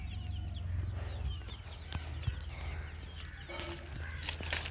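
Mother hens cluck softly on a farm, intermittent close calls over a rumbling outdoor background with scattered knocks and rustles.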